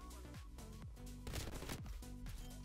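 MG82 machine gun from Black Ops Cold War firing in rapid, dense bursts, loud and close, with short gaps between volleys and a heavier sustained stretch in the middle.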